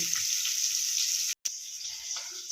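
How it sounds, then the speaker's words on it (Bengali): Dhela fish fry in hot oil with a steady hissing sizzle, moderately loud, with a brief cut to silence partway through and faint clinks underneath. "মাছটা ভাজা হোক"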